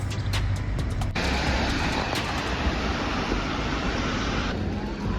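A bus drives along a rain-soaked road on a rainy day in Ukraine, a steady, close, broadband roar of tyres on wet pavement and engine that fills the whole stretch without pause and with no voices.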